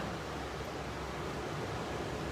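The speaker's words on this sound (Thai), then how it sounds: "เสียงคลื่นนี่มันฮิวจิตใจมากเลย" Steady broadband wash of ocean waves on a shore, continuous and fairly loud with no distinct breaks, heard alone without voices.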